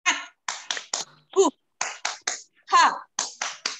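Short bursts of group clapping and chanted syllables in a rhythmic clap routine led for children, sharp claps alternating with voiced calls in a quick pattern.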